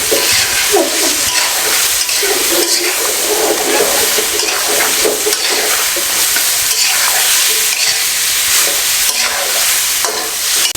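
Mutton sizzles and crackles loudly in a hot pan, a steady hiss with occasional stirring scrapes close by.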